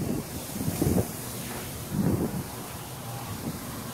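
Dust storm wind gusting over a backyard pool, a rough roaring rumble buffeting the microphone in repeated surges, loud and close.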